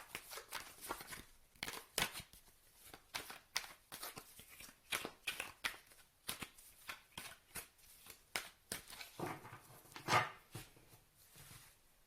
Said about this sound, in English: So I will pull some tarot cards here first.